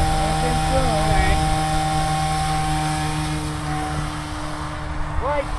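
A light aircraft's propeller engine running steadily near and loud, a sustained drone with a constant whine, as people talk over it.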